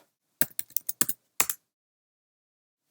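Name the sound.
typing on computer keyboard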